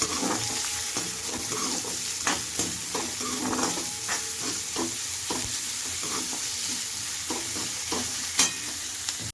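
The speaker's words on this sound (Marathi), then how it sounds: "आणि नंतर टाकायचे कांदा कांदा छान असा परतून घ्यायचा" Onions sautéing in a pan in a home kitchen, a steady close sizzle with scraping stirs of a spoon and a few sharp clinks, no voices.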